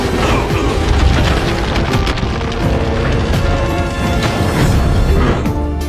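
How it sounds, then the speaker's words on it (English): In the 2018 film Bumblebee, a missile blast hits a helicopter and the chopper spirals out of control, producing loud, continuous booming and crashing impacts with dense, rumbling action noise throughout. "Shatter blasted him with a missile. As his chopper spiraled out of control"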